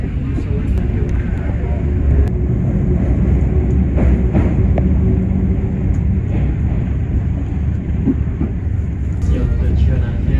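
KA Motis Tengah passenger train running, heard from aboard as a steady loud low rumble and rattle of the carriage throughout, with faint background noise and no clear talk.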